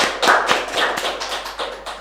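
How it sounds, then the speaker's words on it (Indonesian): Audience clapping for guests at a wedding showcase event in a hotel, a modest burst of separate hand claps that stays fairly close and steady, then thins out over a couple of seconds with no talking. "Nah, tepuk tangan dulu dong untuk tamu kita yang luar biasa ini."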